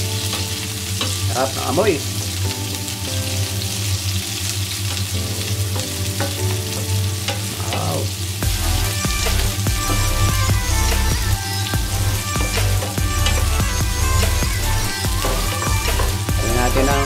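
Onion sizzles with garlic in a pan for a sautéed bitter gourd dish, a steady loud frying hiss with occasional stirring clatter throughout and a brief spoken remark partway through.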